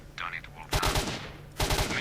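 Gunfire in the game S.T.A.L.K.E.R. aimed at a barrel, two short rapid bursts of shots about a second apart, loud and close, with brief game sounds between them.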